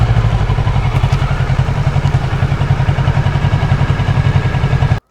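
A Kawasaki 650R (ER-6N) parallel-twin motorcycle with its factory exhaust idles at the roadside, a steady close, loud low throb with a pulsing beat that cuts off abruptly at the end.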